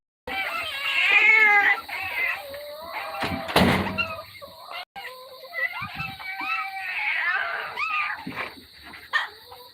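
Cats meow and caterwaul on a farm, with several bright, close calls over about ten seconds, interrupted by a loud door slam and a brief dog bark, and a little faint human voice.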